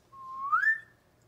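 A single short whistle played back from a recording holds a steady tone, then slides upward and fades, clear and alone against near silence.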